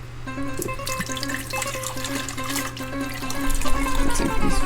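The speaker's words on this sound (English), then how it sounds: "when I open this, it's gonna come water from this side and this side." Water gushes and splashes out of an opened hot water tank on a sailboat, a steady running flow with gurgles and drips that grows slightly louder toward the end, with no talking.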